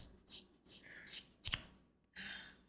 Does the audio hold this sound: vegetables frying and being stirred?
no